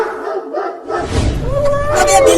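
Cartoon dogs bark in front of a wooden house, yapping bursts mixed with animated voices and background music, fairly loud and busy.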